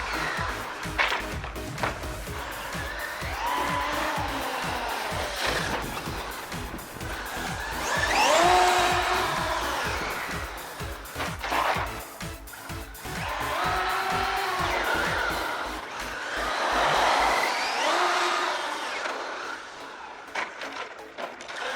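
UDR and Mojave RC trucks drive, one with a 2250 motor, their electric motors whining and rising and falling in pitch over continuous tire and gravel noise, in recurring passes that stay fairly close.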